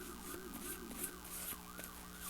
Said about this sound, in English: Sorry if you hear the ambulance too.